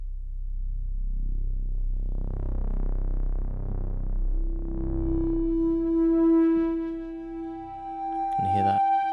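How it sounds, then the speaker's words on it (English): Moog synthesizer patch with an aggressive, fierce filter: a low sweeping, pulsing tone opens up and settles into a sustained bright note, close and fairly loud throughout. "Can you hear that slightly more fierce Moog filter on that patch?"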